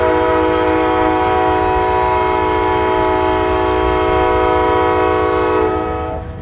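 A train sounds a long, loud, sustained horn at a Billy the Kid reenactment, a rich steady chord held close by for several seconds before starting to fade, over low rumbling wheels.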